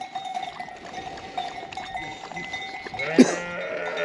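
Sheep and other livestock on a drought-hit farm shuffle about with a faint steady bell tone and a brief clanking knock near the end, no talk heard.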